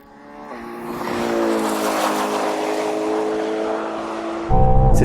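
A Kia racing a Ferrari V12: a loud engine roar swells over the first second, holds a steady droning pitch, then jumps to a sharper, louder burst near the end.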